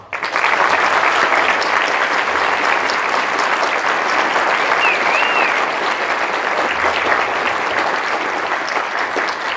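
Sustained audience applause at a Veterans Day ceremony at St. James High School, a loud, dense crowd clapping steadily for nearly ten seconds without pause.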